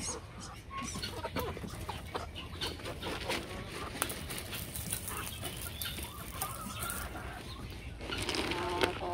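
Clucking from a broody hen sitting on eggs goes on steadily over a low background hum, with a few wing flutters and occasional louder calls.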